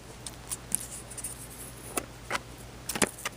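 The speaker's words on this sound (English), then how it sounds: "So, this is why I have scissors." Scissors snip open packaging in a series of short, sharp, quiet cuts and crinkles, irregularly spaced over a faint steady hum, with no voices.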